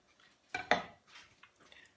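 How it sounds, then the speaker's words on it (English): Sharp knife cutting boiled eggs in half on a board, a couple of quick close taps and knocks followed by softer scraping, quiet with no voice. "Get yourself a sharp knife. Cut him down the centre."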